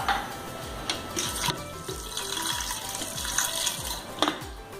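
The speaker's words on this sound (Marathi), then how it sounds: "त्याच्यामध्ये ही मुगाची डाळ टाकते आणि तुरीची डाळ देखील टाकते। ही स्वच्छ धुवून घ्यायची" Moong and toor dal being rinsed under a running kitchen tap, a steady close stream of water splashing into a vessel with sloshing and clinking bursts as the lentils are swished, no voices.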